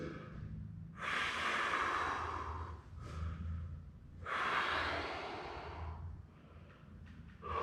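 Slow, deep breaths from someone lying face down on a softball during a mobility session: two long audible exhales with softer inhales between, close and quiet.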